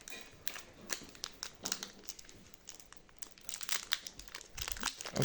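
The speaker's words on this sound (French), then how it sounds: "J'ai du mal à l'ouvrir." A Pokémon card booster pack, a small Pikachu pack, is crinkled and torn open up close, with bursts of plastic foil crackling and rustling throughout.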